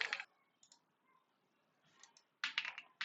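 Typing a comment on a computer keyboard, with short bursts of crisp key clicks separated by near-silent pauses and a faster cluster of taps near the end, close and quiet.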